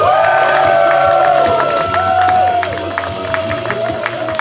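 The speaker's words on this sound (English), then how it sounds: "please slap your hands together in thunderous applause" Audience at an improvised comedy show at Leicester Comedy Festival erupts in loud applause and whooping cheers, a dense crowd roar with high shouts that stays full for about two seconds, then thins into scattered clapping and calls.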